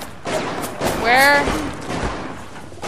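Gunfire bursts in the shooter BioShock, with a voice yelling over the shots; the firing carries through the whole stretch and peaks about midway.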